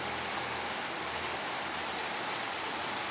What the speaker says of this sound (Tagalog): Itong ulan na ito, maghapon daw mga paps